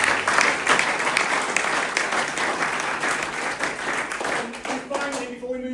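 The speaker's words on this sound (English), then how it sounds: "So a big round of applause for Griff." An audience gives a round of applause at a lounge gathering, a dense, steady wash of many hands clapping that holds for several seconds before thinning toward the end.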